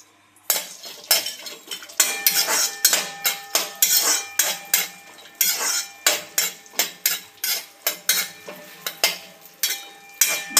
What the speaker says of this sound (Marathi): आणि आपण आता हे सगळे ड्रायफ्रूट भाजून घेऊया,